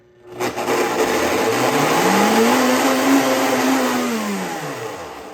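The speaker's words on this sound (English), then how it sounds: "I'm gonna put the cover on and blend that on up" A Blendtec blender kicks on and whirs at a high, steady pitch blending flourless crepe batter, rising briefly and then winding down near the end, close by.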